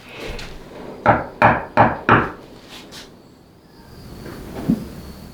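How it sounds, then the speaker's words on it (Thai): Knocking on wood inside a storage room: four firm, evenly spaced knocks close by, followed by a fainter single knock a few seconds later in a quiet room. "ผมไปก่อนดีกว่าครับพี่เขาเคาะกลับแล้วครับ"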